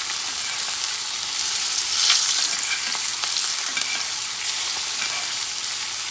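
Lamb chops fry in butter in a pan, giving a loud, steady bright sizzle that swells briefly with stirring, continuous and close with no talking.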